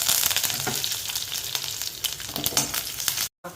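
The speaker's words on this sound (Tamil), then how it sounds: "பூண்டு கருவேப்பிலை போட்டு ஃப்ரை ஆனோடனே" Crushed garlic and curry leaves fry in hot oil, a dense, loud crackling sizzle that stops abruptly near the end.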